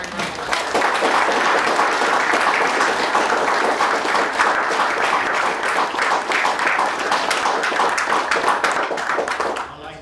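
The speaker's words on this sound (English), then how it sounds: "let's give them both a great round of applause" A crowd gives sustained, dense applause for D-Day veterans at a 75th anniversary commemoration, loud and steady throughout with no pause.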